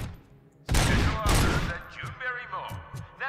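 Rapid bursts of gunfire ring out as mannequins are shot in the video game RoboCop: Rogue City, two loud volleys followed by scattered lighter shots and impacts.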